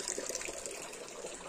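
A garden tap runs continuously at Goba Ali Garden, its water gushing and splashing in a steady, fairly close rush that lasts the whole moment with no voices over it.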